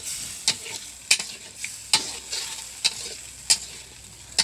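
Fish pieces sautéing in spiced oil, a steady broad sizzle punctuated by about seven sharp scraping stirs of a spatula at irregular intervals, close and fairly loud with no talking.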